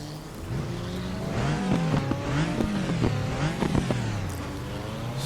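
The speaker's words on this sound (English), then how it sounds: "Sounds like one of those Porsche type engines behind us" Porsche race car engines in the Raceroom racing video game, a rising and falling engine whine with revving gear changes and brief tire squeal, loud and close without any talk.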